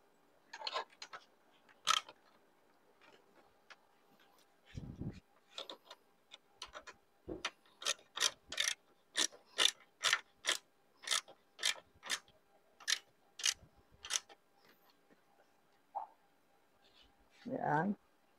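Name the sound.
tightening Honda ADV 160 hand guard with a ratchet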